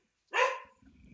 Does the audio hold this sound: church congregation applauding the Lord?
no